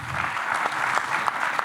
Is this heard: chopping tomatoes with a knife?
no